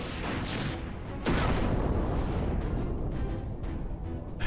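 Big guns fire in Final Fantasy XI, with a couple of sharp booming blasts cutting through a dense rumbling wash of battle noise, loud and close, with no talking.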